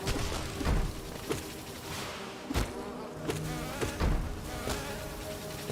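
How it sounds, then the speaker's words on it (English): Large bees buzzing in the video game Hollow Knight, a steady insect drone with several soft thuds and impacts scattered through it, fairly loud and without talk. "Bouncing off of the big bees seems like a dumb idea."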